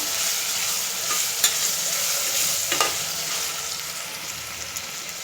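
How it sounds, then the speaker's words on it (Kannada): A paste frying in a pan for veg pulao, giving a dense, even sizzle close by with a few faint spoon scrapes and taps as it is stirred. "ಇದು ಹಸಿ ವಾಸನೆ ಹೋಗೋ ಗಂಟ ಸ್ವಲ್ಪ ಫ್ರೈ ಮಾಡ್ಕೊಳ್ಳೋಣ."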